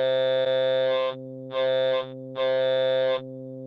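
A switched formant synth module built from a 1960s Bell Labs design plays a MOSFET filter sweep with distortion: a loud, buzzy, harmonic-rich drone with three bright, gritty swells that open and close over a steady low tone.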